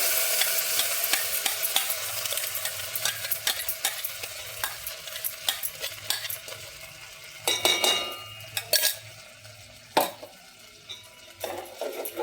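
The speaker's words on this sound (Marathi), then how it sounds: "मंद ह्याच्यावर छानपैकी ढवळून घ्यायचं" Repeated scraping and clinking of a spoon stirring kheer in a pot over low heat, irregular strokes over a soft simmering background, no voices.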